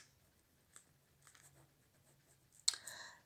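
A word is written down by hand, with faint, soft scratchy pen strokes in a quiet room and a sharper tap or scrape near the end.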